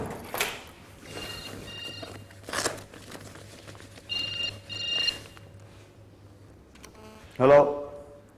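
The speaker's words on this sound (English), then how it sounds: "There's the phone ringing." A telephone rings indoors in short repeated bursts separated by pauses, fairly faint against a quiet room with a low hum and a few handling noises, and a louder rustle near the end.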